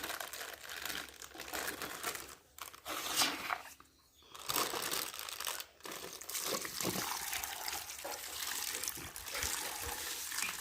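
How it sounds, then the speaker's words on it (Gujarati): Water poured into a cooking pot after salt and turmeric are added, a steady splashing rush lasting most of the clip with a brief break, close and fairly loud. "હવે નાખ પાણી."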